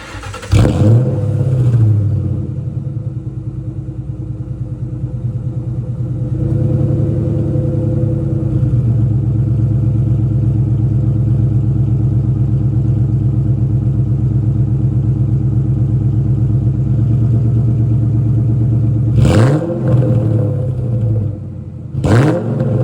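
A 2004 Ford Mustang Mach 1 V8 fitted with a Bassani catted X pipe and mid-length headers idles with a loud, deep burble, revving sharply near the start and again toward the end.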